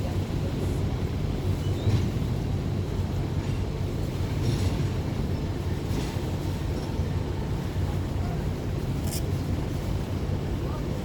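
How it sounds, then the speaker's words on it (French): A small locomotive of the Panama Canal locks moving in the early morning, a continuous low rumbling drone under strong wind and turbulent water noise, steady and fairly loud throughout. "Ah, une petite loco qui bouge."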